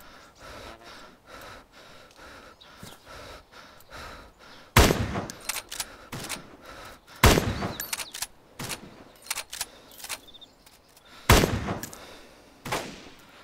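Gunfire in the DayZ video game: three loud, sharp shots at spaced intervals with a later fourth, over quiet breathing and low ambient noise, with no talking.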